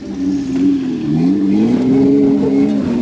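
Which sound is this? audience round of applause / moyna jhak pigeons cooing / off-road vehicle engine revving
off-road vehicle engine revving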